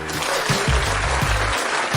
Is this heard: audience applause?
yes